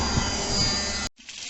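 Hardened body filler on a Kia Ceed JD bumper being sanded back, a dense abrasive scrubbing that runs steadily for about a second and then cuts off abruptly, leaving only faint rubbing.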